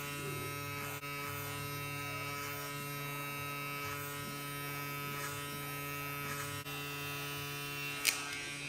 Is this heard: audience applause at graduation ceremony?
no